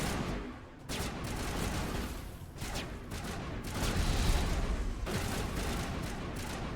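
Dense, continuous gunfire from the sci-fi shooter game Mass Effect, loud and close, with sustained bursts and brief lulls throughout and no talking.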